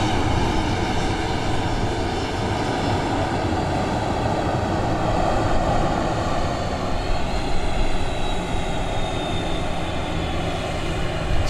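Jet airliner engines at Dallas Love Field airport at night, a continuous loud whining roar with steady tonal hum, including a Boeing 757 being serviced nearby, no talking.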